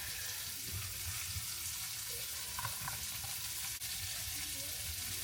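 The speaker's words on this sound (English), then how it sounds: "We got our shallots chopped up, so we're going to start sauteing these up very nicely." Chopped shallots sauté in a pan of butter, giving a constant dense sizzle and hiss throughout, with a few faint stirring knocks and a small clink near the end, no talking.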